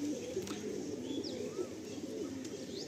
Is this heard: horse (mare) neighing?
no